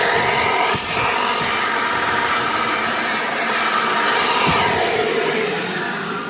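A large vacuum cleaner runs during caravan pop-top spring repair work, giving a loud, steady whooshing roar that continues unbroken with slight swells and a couple of faint bumps.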